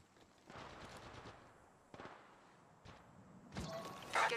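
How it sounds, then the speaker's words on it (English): Gunfire in the mobile game Apex Legends Mobile comes as bursts of rapid shots, several volleys separated by short pauses, moderately distant and fairly quiet, with one louder, closer burst near the end. "Getting shot at."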